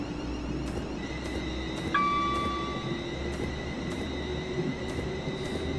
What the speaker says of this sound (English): Sound like a freaking metro train in Australia